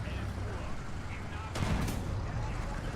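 A tank cannon fires an armor-piercing shell in War Thunder, one heavy boom with a sharp crack rising out of a constant low engine rumble and battle noise.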